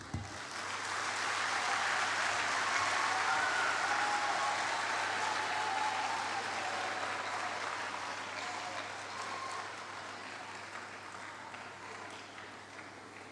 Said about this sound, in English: can we give another warm applause to Precious Allah for the keynote